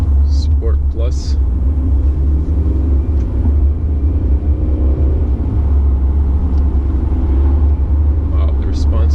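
Diesel engine of a 2019 Mercedes C-Class 220d in Sport Plus mode on Croatian roads, a loud, steady low rumble with road and wind noise throughout and occasional faint sounds from inside the cabin.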